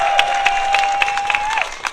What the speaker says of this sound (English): Another round of applause for Dean Royer